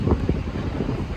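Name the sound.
wind on a beach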